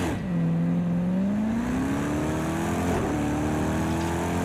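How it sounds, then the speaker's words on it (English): A Corvette roaring in Project Cars on a wet track, its engine note sweeping upward as it accelerates hard, loud and continuous, with a brief dip around a gear change. "You gotta love the Corvette for sound."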